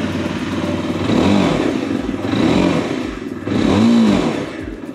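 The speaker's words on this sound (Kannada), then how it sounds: "ಸೊ ಇದು ಈ ಒಂದು ಬೈಕ್ ನ ಎಕ್ಸಾಸ್ಟ್ ನೋಟ್." A 2025 Yezdi Adventure motorcycle idles close by with a throaty, pulsing exhaust note, swelling in three blips of revving over a steady low rumble.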